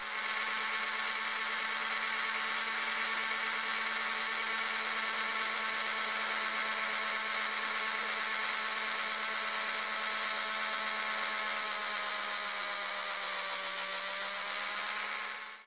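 A mini drill fitted with a 0.5 mm bit bores into small wooden model fence posts for an HO-scale layout, giving a steady, high-pitched motor whine that holds evenly close to the microphone and then winds down at the end.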